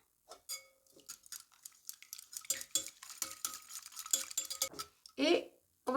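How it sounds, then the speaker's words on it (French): Crème fraîche and egg being mixed in a bowl, with a steady run of scraping, clinking stirring strokes against the bowl, growing busier toward the end, close and moderately loud. "mélanger la crème fraîche avec l'œuf"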